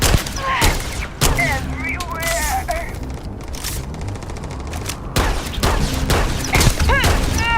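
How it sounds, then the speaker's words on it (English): Rapid laser pistol fire in a first-person shooter video game, with bursts of sharp zaps and crackling shots over game effects, and a voice talking throughout. "This is my laser pistol."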